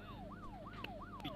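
Police car siren in the video game Broke Protocol, a faint rising-and-falling wail repeating about three times in quick succession over a low background hum.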